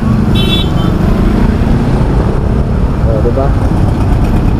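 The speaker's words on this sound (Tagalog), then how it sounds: "Tala na yung traffic dito mga paps." Dense, loud morning road traffic at Javier Bridge on the E bank road floodway, with a steady rumble of car engines, a brief horn toot, and a voice speaking briefly over it.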